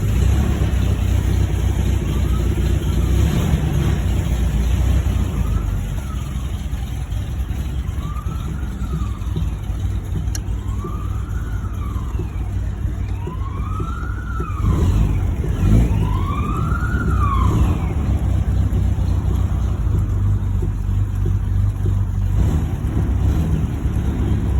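A 1949 MG YT driving, its low engine rumble running steadily throughout while a wailing siren rises and falls repeatedly in the background from a passing emergency vehicle.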